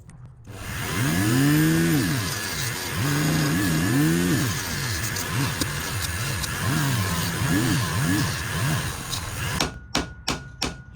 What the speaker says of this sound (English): buff the back here, and get some of this surface rust off the blade